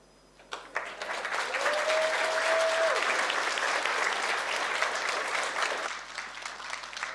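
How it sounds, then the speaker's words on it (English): An audience at a girls' high school anniversary lecture breaks into full, sustained applause that swells quickly, holds steady and then tapers off, with a brief tonal whistle or feedback note near the start. "Round of applause again for our girls"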